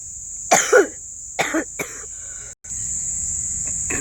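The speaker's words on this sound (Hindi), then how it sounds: "सॉरी, थोड़ा खांसी आ गई थी।" A few sharp coughs from one person, close and fairly loud, come in short bursts over a steady high insect-like whine in a quiet room.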